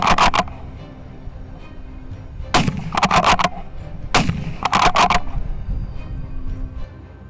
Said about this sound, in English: The shot rings out as expected, sending the boars into a panic.